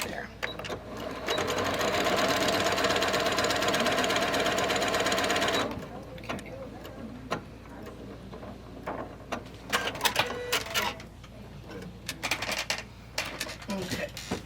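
A sewing machine stitches quilt cornerstones and sashing in a steady, loud run for several seconds, then stops, leaving lighter handling clicks and thumps.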